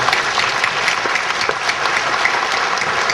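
Dense, steady applause from a church congregation honoring two people, filling the room at an even level throughout with no talking.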